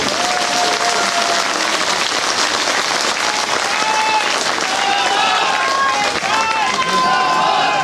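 A political rally crowd in Chhatarpur, Delhi, cheers and applauds the Punjab Chief Minister during an election speech; loud sustained clapping and crowd noise with whistles and shouts rising through it.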